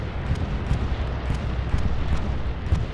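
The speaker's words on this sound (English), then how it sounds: "Does look like a bombing run is coming in on Chapel" Bombing run in Hell Let Loose on Utah Beach: a dense, continuous rumble of explosions with repeated heavy thuds rolling through, steady and loud with no talk over it.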